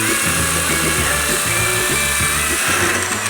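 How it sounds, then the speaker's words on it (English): An angle grinder whines and rasps steadily against a damaged fender on a 1957 Chevy/GMC truck, stripping it to bare metal, loud and close with rhythmic pulses as the disc is worked back and forth. "Take this grinder."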